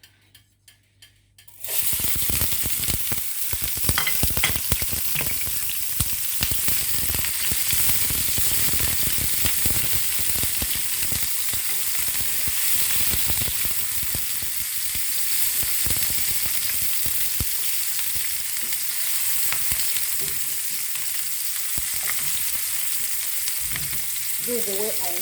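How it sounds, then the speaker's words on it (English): Onions frying in a pan for seafood paella: a few light taps come first, then a loud, steady sizzle crackles on without a break to the end. "I'll start by frying my onions"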